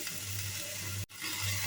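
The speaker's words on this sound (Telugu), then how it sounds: "పసుపు వేసిన తర్వాత మరొకసారి అంతా బాగా కలుపుకోవాలి." Cabbage curry with turmeric sizzles in a pan as it is stirred, a soft, steady frying hiss that briefly drops out for a moment.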